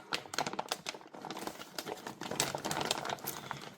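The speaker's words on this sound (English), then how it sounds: "ASMR of a parts kit getting opened. A plastic bag." A plastic bag holding a Yugoslav M64 rifle parts kit crinkles and rustles as it is opened, with close, uneven crackles and small knocks of metal parts shifting inside.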